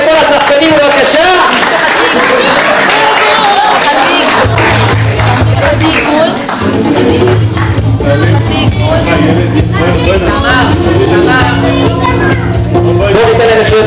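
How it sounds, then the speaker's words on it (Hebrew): A hall crowd at a school siddur celebration applauds and cheers the young performers, a loud, dense wash of clapping and shouting that runs continuously throughout. "בואו ניתן לפני זה מחיאות כפיים לכל השחקנים, בבקשה"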